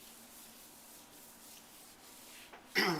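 A gloved hand rubs sealer across a granite countertop, giving a faint, soft continuous rubbing with a sharper scuff near the end, close and alone.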